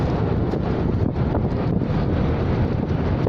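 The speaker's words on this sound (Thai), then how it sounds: "ลมพัดค่ะอากาศเย็น" Strong wind buffets the microphone while riding at the back of a boat on a cool day, a loud continuous rumbling roar with gusty swells and no talk.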